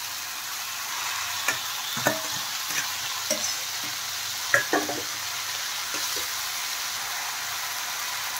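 Boiled cabbage going into spiced potatoes frying in a pan, with a steady sizzle and a handful of scattered stirring clicks and knocks, close up and alone, without voices.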